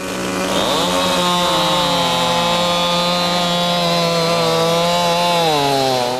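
A powerful chainsaw revs at full throttle while cutting through a log at a logger sports event, a loud sustained whine with a shifting pitch that runs without a break and has no talk over it.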